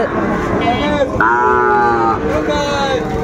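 Several Sahiwal cattle moo in drawn-out calls at a livestock market, one loud and close, others shorter, over a busy crowd murmur.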